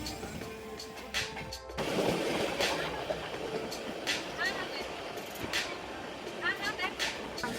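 The Shaktipunj Express pulls into Kulti station, a steady rumble of railway cars with brief metallic clanks and clicks under muffled voices, and a sharp jolt partway through.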